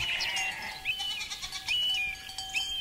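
Goats bleating in short, high wavering calls, several overlapping, fairly close against a faint outdoor mountain background as they are herded down.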